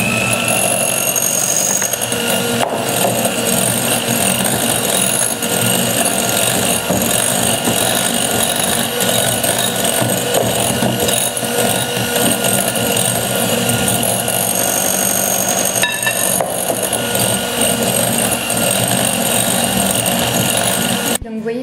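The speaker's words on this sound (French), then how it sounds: "Je vais continuer de battre avec mon fouet" Electric whisk beating egg whites while icing sugar is added little by little for a meringue mixture, a loud steady whirring drone that runs throughout with slight changes in tone as the beaters move.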